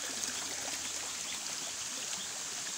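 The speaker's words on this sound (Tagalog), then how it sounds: "Tunog ng patak ng tubig." Water splashes and trickles at a waterfall at night, a continuous close hiss of falling and dripping water with no other sounds.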